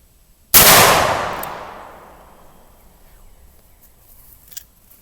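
One loud, close gunshot fires a jacketed hollow point bullet into leather, a sharp crack followed by a long decaying echo, then faint rustling.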